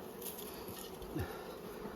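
Honey bees buzz faintly and steadily from an opened brood box during spring hive inspection, a low continuous hum with one bee droning briefly closer.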